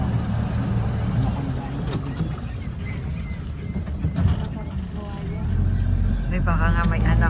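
A boat's engine drones steadily beneath voices talking nearby, with water and wind noise swelling louder toward the end.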